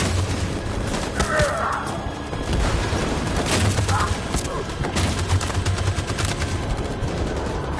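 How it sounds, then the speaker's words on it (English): Sustained machine gun fire in a PS4 war game, loud and continuous bursts with booming impacts layered over the battle, a faint voice briefly underneath. "That machine gun is taking down everything that moves!"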